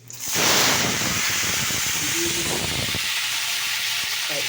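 Panch phoron spices hitting hot oil in a wok, a sudden loud sizzling hiss that bursts up and holds steady for several seconds, then settles slightly.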